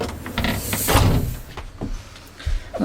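A screen door swings shut under a newly installed door closer on a windy day, with a hiss of motion, a soft thunk and a few short rattles and knocks, close and fairly loud.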